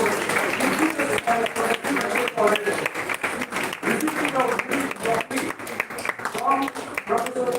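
Applause at an oratory contest ceremony, a steady wash of many hands clapping through the whole stretch with some voices mixed underneath.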